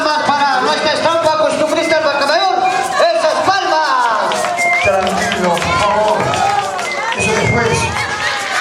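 Festival crowd at an anniversary dance in Antabamba, Peru, clapping and cheering. The noise is dense and continuous, with shouts and a lively hubbub, and an announcer's voice carries over it throughout.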